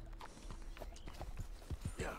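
Horse hooves clip-clopping in the Red Dead Redemption 2 video game, a steady walking rhythm of soft thuds at moderate distance, with speech audible in the background.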